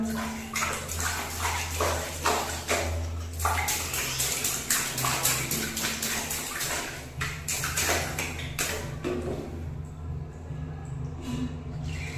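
Water runs steadily for a baby's bath, a continuous splashing rush at close range with soft knocks and movement throughout.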